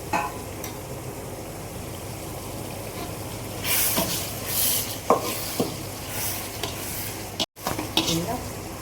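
Ginger and garlic frying in a pan for chicken biryani, with stirring scrapes and a rising sizzle and hiss, plus a few sharp utensil knocks against the pan, close and fairly loud.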